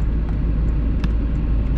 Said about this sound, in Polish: grzeję sobie jeszcze tutaj auto